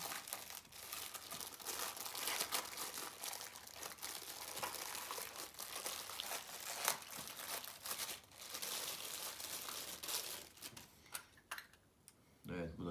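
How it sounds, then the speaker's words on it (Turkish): Plastic packaging of light bulbs being torn open and handled, with steady crinkling, crackling and tearing close by that runs almost continuously, then breaks into a few short rustles near the end. "şimdi ampullerin paketini açalım"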